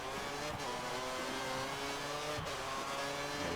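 A Formula 1 car in F1 2013 races at the China circuit, its engine whining loudly and steadily near the listener, holding a high sustained pitch with slight shifts as it powers along.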